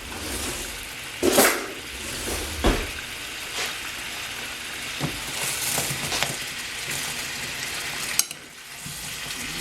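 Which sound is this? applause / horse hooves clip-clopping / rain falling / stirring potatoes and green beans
stirring potatoes and green beans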